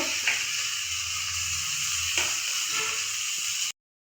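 Chopped banana flower goes into a pan of fried spiced masala, which sizzles loudly and steadily up close, with a few faint stirring clicks before it cuts off suddenly.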